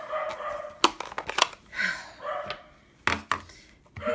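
A dog next door barks at a workman, giving a few sharp, fairly close barks scattered among clattering knocks and background activity.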